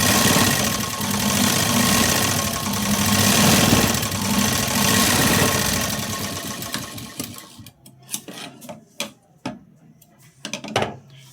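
A sewing machine runs steadily for about seven seconds, stitching along the edge of a button placket, then stops and gives way to a few scattered clicks and handling knocks.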